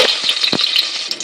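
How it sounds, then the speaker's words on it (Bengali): Bay leaf, cloves and cardamom frying in hot refined oil, a short close sizzle with a couple of small pops. "এরপর রিফাইন তেলে তেজপাতা, কিছু লবঙ্গ, কিছু এলাচ দিয়ে"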